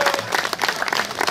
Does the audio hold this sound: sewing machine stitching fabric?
no